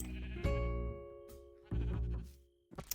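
Sheep in the farming game Sunlit Valley bleat in a few distinct, wavering calls with short pauses between them, clear and close, with no talking over them.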